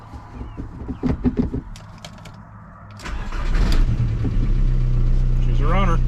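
A 2001 VW Beetle TDI diesel engine cranks and starts, then settles into a steady, loud idle close by, with brief voices beforehand.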